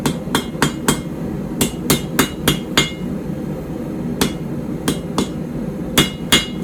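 Hammer forging a puukko knife blade, straightening it on the anvil with about twenty sharp metallic strikes, close and ringing, in uneven clusters with brief pauses.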